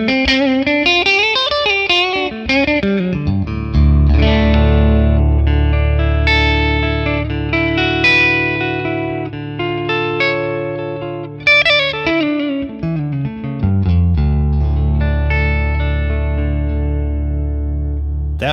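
Electric guitar played through a Friedman PLEX amp capture with reverb added, loud sustained distorted chords and melodic note runs with a lingering tail, continuous throughout with no talking.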